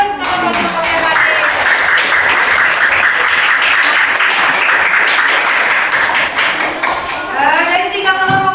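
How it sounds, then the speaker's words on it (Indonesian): Classroom applause for a student group, a loud, sustained burst of many hands clapping together for about eight seconds, with a few voices calling out over it. "Kasih aplaus ke kelompok yang tadi."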